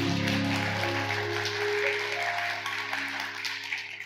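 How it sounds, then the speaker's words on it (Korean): A Korean church congregation gives a round of applause to God, a soft continuous patter of many hands beneath sustained hymn music. "우리에게 참 평안을 주신 하나님께 영광의 박수 올려드립니다."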